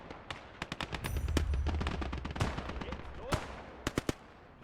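A .50 cal machine gun mounted on a half-track fires in the WWII strategy game Gates of Hell: rapid, crackling bursts of shots over a low rumble, ending with several sharp, separate cracks.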